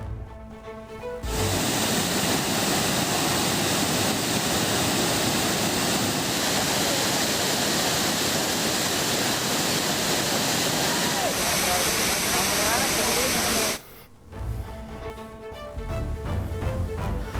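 A loud, steady roar of the Hogenakkal waterfall, where crowds of tourists bathe after oil massages. The dense rushing water fills most of the clip, then breaks off briefly and other sounds follow.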